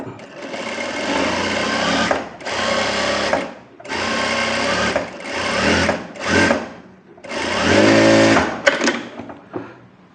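A sewing machine stitching a buff sleeve on fabric runs in several close, loud bursts of rapid whirring, with short pauses between runs and a final faster stretch.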